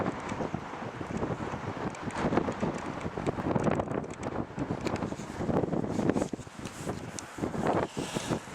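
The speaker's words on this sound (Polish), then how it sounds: "Nie wiem, czy mnie słychać, bo tu wiatr bardzo wieje" Strong wind gusts buffet the microphone outdoors by the water in Ireland, a loud, continuous rumbling roar that surges and dips for the whole stretch with no voice over it.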